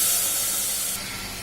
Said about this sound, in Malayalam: തിളച്ച വെള്ളമാണ് ഒഴിക്കുന്നത്